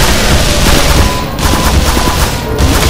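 Rapid gunfire from the video game Black Mesa, a loud, dense fusillade of overlapping shots and booms that continues without pause across the whole short stretch.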